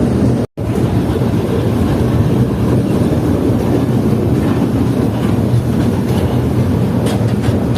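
A toy train runs on rails through Changa Manga forest in Pakistan, giving a loud, steady rumble of wheels on track with faint rhythmic clatter, heard from on board, with no talking.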